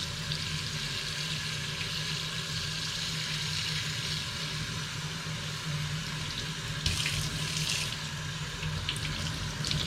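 A kitchen tap runs water steadily over a home-grown green luffa sponge being rinsed after bleaching, a continuous close splashing hiss with brief louder spatters near the end, no voices.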